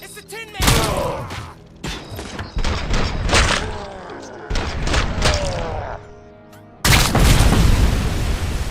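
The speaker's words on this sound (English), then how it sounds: "They threw a grenade?" Heavy booms and thuds erupt in the Robocop Rogue City shooter, several loud blasts in separate bursts across the clip, one big final explosion, amid gunfire and combat noise.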